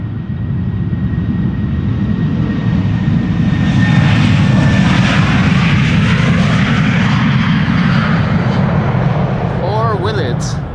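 A Boeing 737-700 jet airliner departs Schiphol, its loud engine roar rising and swelling steadily throughout, with a rising whine near the end.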